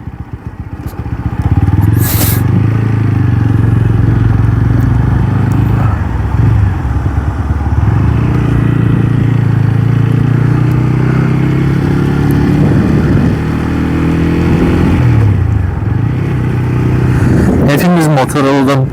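A Chinese-made motorcycle is ridden with a steady, loud engine drone and rumble throughout, plus a rising rev and clatter near the end.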